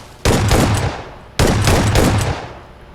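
A pump shotgun fires twice in a video game, each loud, close blast followed by a decaying rumble, with a little over a second between shots.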